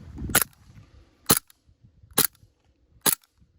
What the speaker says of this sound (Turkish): Tabanca gerçekten tepiyor. Karbondioksit olduğu için bu arada.